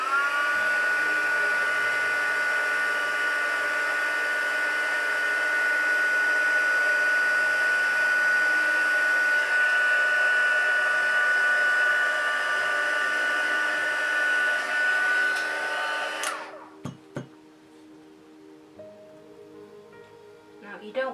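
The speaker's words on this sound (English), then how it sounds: "and then heat setting with your gun" Steady loud blowing roar of a heat gun heat-setting paint on a reborn doll, holding a constant whine for a long stretch before switching off, followed by quiet clicks and light handling noises.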